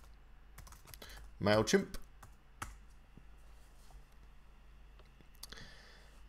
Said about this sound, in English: I'm going to type in here WooCommerce